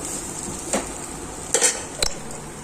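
Boti (goat tripe) fry sizzling steadily in a pan while a spoon stirs and scrapes the metal in three brief clinks, close and fairly loud, no talking.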